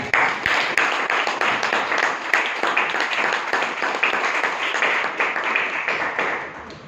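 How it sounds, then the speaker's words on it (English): Steady applause from an audience at a Toastmasters club meeting in Bangalore, dense clapping filling the whole stretch, fairly close and even in loudness before tapering slightly at the end. "a round of applause to Toastmaster Priyanka"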